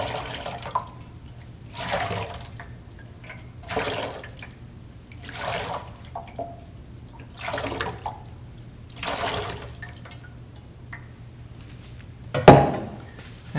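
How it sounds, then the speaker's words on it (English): Water poured over hands in a Shabbat ritual handwashing, about seven separate pours in a slow steady rhythm, each a brief splashing gush with quiet pauses between, and a sharper clink near the end. "for this act of washing, we make a blessing"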